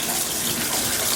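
A baby splashing water with their feet in a filled bathtub at home, a continuous close, bright wash of splashing and sloshing with no pauses.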